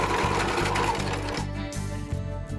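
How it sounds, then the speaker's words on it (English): Sewing machine stitching cargo cloth for a tarpaulin loop, a steady close mechanical whir with rhythmic needle thumps that slows and softens partway through. "Sew around the edges and crease in the middle."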